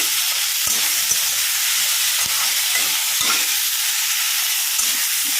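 Onion, tomato and tamarind sauté in a pan with salt, giving a steady soft sizzle and hiss with a few light knocks of a spoon scattered through, fairly close and continuous.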